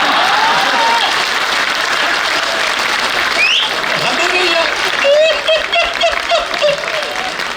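Audience applause at a political talk on the West Bengal election, a steady wash of clapping from a crowd that runs the whole stretch, with shouts and voices faintly mixed in near the end.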